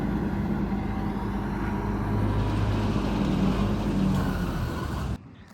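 A Paneser G60 machine runs with a steady low engine drone and rumble, fairly close and constant, before cutting off abruptly near the end.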